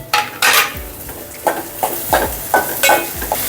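Onion and tomato cooking in a pan, stirred with a spatula: repeated scraping strokes every half second or so, with a soft sizzle and light metal clatter, close and fairly loud, no talking.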